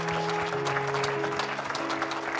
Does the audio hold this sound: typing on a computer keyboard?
no